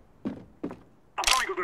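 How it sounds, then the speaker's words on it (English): A flashbang is thrown in Counter-Strike: Global Offensive: two soft, close thumps in quick succession, then a brighter, sharper burst of handling and throwing noise. "I'm throwing a flashbang"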